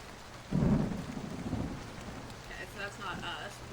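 Rain and thunder in the video game Portrait Of A Torn: a steady rain hiss with a deep rolling thunder rumble swelling up close, then fading under the continuing downpour, with faint tones toward the end.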